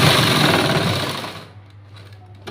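A sewing machine runs a fast, steady stitching whir along a blouse seam for about a second and a half, then stops, leaving a faint low hum and small handling clicks.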